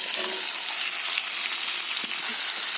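Chopped onion sizzles and crackles steadily up close as it fries in oil with panch phoron spices, with a few faint clinks of a utensil and no voices.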